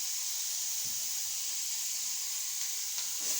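Capsicum sautéing in a pan gives off a steady, bright sizzling hiss with no break. A few soft low knocks, like a stirring utensil, stand out from it, and no one talks.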